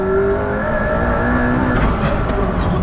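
A McLaren P1 supercar accelerates hard, a loud, steady engine roar with rising tonal whine filling the whole moment, heard from close by without talk.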